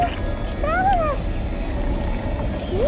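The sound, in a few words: cat meowing in video game Genshin Impact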